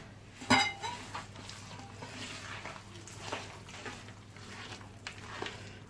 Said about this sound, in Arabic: صافي كنخلط